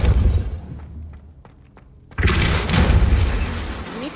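A Depulso spell striking in the video game Hogwarts Legacy: a dull low rumble fades into a brief hush with a few small taps, then a loud forceful thudding impact bursts in and roars on to the end.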